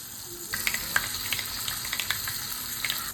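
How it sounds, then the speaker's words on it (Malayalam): Mustard seeds fry in hot coconut oil in a pan, giving a soft steady sizzle broken by sharp scattered pops and crackles as the seeds burst, close by. "കടു വറുക്കാനായിട്ട് വെളിച്ചെണ്ണ ഒഴിക്കുക"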